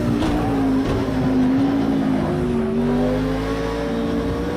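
A car engine in a VR racing game revs loud and close, its steady droning note climbing and dipping as the throttle shifts, with no voices over it.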